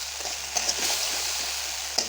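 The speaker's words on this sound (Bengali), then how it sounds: "আমি সঙ্গে সঙ্গে একটুখানি জল ঢেলে দেবো। জল দিয়েই তারপরে আবার একটু নাড়াচাড়া" Masala paste sizzles in a pan just after a splash of water is added, with a soft scraping stir now and then over a steady hiss, close and moderate.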